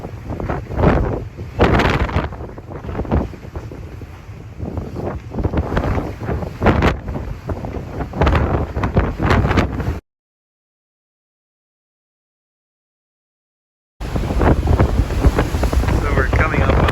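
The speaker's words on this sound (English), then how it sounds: "But it's very windy." Strong wind buffets the microphone on the open deck of a BC Ferries ship along the Inside Passage, loud gusty roaring in uneven bursts, cutting to silence for a few seconds before returning.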